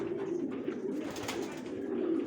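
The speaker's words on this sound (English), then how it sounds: "So these are the Evans pigeons." Pigeons coo steadily in a breeding loft, low rolling calls overlapping close by with faint rustling and shuffling around them.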